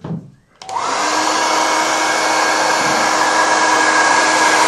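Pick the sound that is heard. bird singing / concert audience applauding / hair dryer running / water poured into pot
hair dryer running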